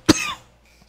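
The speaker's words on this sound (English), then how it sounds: "I'm gonna wait until you cough." A single sharp cough from a person on a podcast, close and loud, followed by a brief fading breath and near silence.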